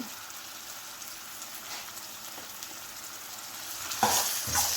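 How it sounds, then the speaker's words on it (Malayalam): Chopped tomato sautéing in a pan for a curry, a soft continuous sizzle with light stirring scrapes that grow louder and busier near the end. "എല്ലാം കൂടി ഒന്ന് നന്നായി വഴറ്റി കൊടുക്കാം"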